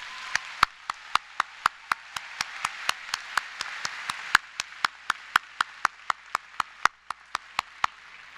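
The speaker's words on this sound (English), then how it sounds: "Let's give them another round of applause." A graduation ceremony crowd applauds. One loud, close pair of hands claps in a brisk, even rhythm above a softer wash of clapping from the hall, going on for about eight seconds.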